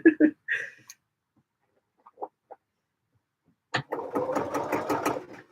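A sewing machine runs a line of visible top stitching with an edge stitch foot, with a fast, steady mechanical whirring burst near the end. Short clucking sounds and brief scattered noises come before it in an otherwise quiet room.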